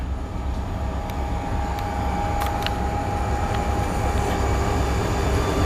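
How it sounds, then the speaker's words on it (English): A train rumbles steadily nearby, a loud continuous low roar of rolling wagons with faint metallic squeals and clanks above it. "got a train coming."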